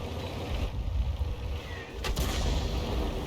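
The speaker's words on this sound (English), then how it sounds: "Arty rounds landing nearby." Artillery rounds land nearby in a video game, a rumbling low boom followed by a sharper crack of impact, heard alone without talk.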